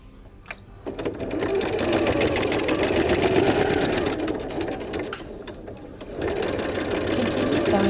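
A sewing machine runs steadily while stitching quilt binding, backstitching into a corner, with a brief pause near the start and another dip around five seconds before the motor whirs on again, loud and close.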